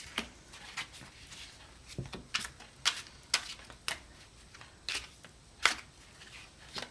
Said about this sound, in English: And I have shuffled this